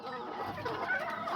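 Azteca chickens, both roosters and hens, cluck softly and continuously in a yard, a faint, busy chatter of fowl calls with no voices.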